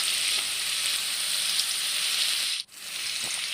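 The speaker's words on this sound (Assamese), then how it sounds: "কুটি ৰখা পিঁয়াজ আৰু নহৰুখিনি দি কণ বিলাহীখন অকণমান ভাজি লৈছোঁ" Chopped onions and garlic sizzle steadily in hot oil, a close continuous frying hiss with a brief dip as they are stirred.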